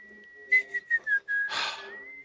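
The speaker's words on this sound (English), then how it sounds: "It's wonderful when you see the star of the show open the show with his whistle." A short whistled theme tune opening a show, a few clear pitched notes in quick succession, then a breathy burst and a final held note.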